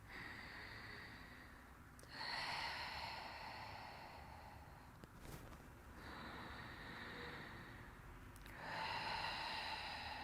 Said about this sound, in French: Et on prend 3 respirations ici.